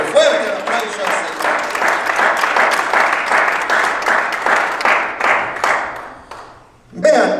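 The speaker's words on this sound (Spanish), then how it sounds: "Fuerte el aplauso al" An audience at a church sermon on demons applauds with dense, sustained clapping for about six seconds before it fades. A voice cuts back in right after the clapping stops.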